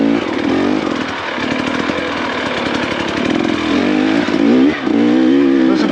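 An off-road motorcycle engine drones loud and close along a tight, loamy trail with logs, revving up and easing off in uneven surges, with no voices heard.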